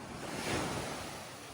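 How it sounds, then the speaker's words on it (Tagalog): Ocean waves wash onto a Boracay beach at high tide, a steady, close surf roar mixed with wind buffeting the microphone. "Kung malaki po yung alon tsaka malakas yung hangin, aabot talaga to."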